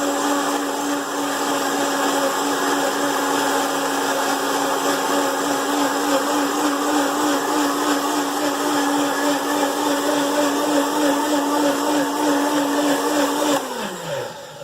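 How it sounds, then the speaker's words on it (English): A blender whirs steadily at high speed, blending a green smoothie with ginger and turmeric, loud and close, a constant motor drone that spins down at the end; no voices. "So I'm going to let him blend that up because I don't really like real thick smoothies"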